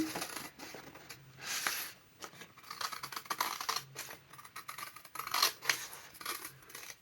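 Scissors cut around a CD sleeve turned into a junk journal pocket, giving a string of close, dry snips and paper rustles with brief pauses between cuts.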